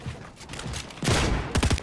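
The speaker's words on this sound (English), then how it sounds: "I'm gonna hit him with the flintlock." Flintlock pistol shots in the Fortnite video game, a loud sharp blast followed by a couple of quick successive bangs near the end, over busy game background noise.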